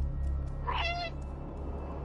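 A cat in the video game Stray gives a single clear meow near the middle, set over a steady low hum with nothing else standing out.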